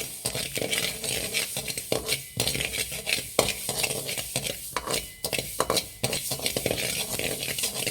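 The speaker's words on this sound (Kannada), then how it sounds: "ಸಾಸಿವೆ ಹಾಕೊಳ್ಳೋಣ ಸಾಸಿವೆನೂ ಅಷ್ಟೇ ಫ್ರೆಂಡ್ಸ್ ಚೆನ್ನಾಗಿ ಹುರಿಬೇಕು" Mustard seeds roasting in a pan for homemade sambar powder, stirred briskly with a spoon: continuous close scraping and metal clinks over a light sizzle and popping.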